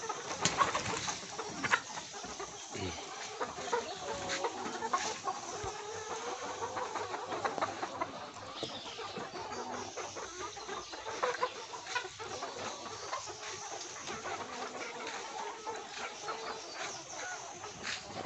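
Young cockerels clucking and calling at a poultry farm, a steady chorus of overlapping clucks and chirps from many birds nearby, with no talk.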